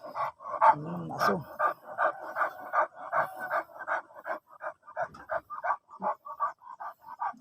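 A beagle pants and yips in a rapid run of short, loud bursts close by, with a deeper growly burst near the start and a voice briefly in the mix.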